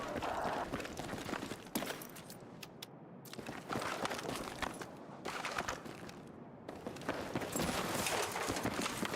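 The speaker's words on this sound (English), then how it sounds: "Oh, I heard footsteps outside the wall." Footsteps outside a wall in the video game Battlefield 6, quick running steps mixed with scattered gunfire and game noise, a busy and fairly loud combat soundscape without talk.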